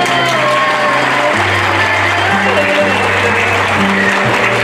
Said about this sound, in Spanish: El aplauso para Yolanda